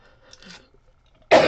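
A single loud, harsh cough bursts out close by near the end, after a stretch of quiet low murmuring.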